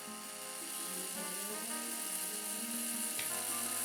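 Expanding foam is dispensed in a thin bead along a ceiling crack, giving a continuous, even hiss that holds steady throughout.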